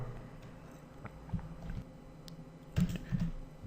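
Typing on a computer keyboard while writing JavaScript code, a few soft key taps followed by a short burst of clicks, close and muffled.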